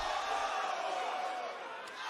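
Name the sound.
wrestling arena crowd cheering and chanting at WWE NXT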